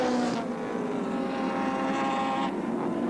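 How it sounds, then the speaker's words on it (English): A 1984 touring race car at Oran Park Raceway peeling off toward the pits, its engine a loud, close, sustained roar with a harmonic whine that shifts in pitch as it passes. "Alan Grice also heads for the pits. There he goes"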